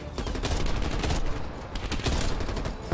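Dense rapid gunfire from a Call of Duty Black Ops Cold War match fills the whole stretch, overlapping automatic bursts crackling loud and continuous with brief dips, no voices heard.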